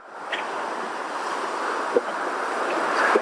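Ocean surf rolling and breaking onto the sand at Playa Grande in the Dominican Republic, a steady broad wash of waves with light wind noise, continuous and fairly close, with no talking.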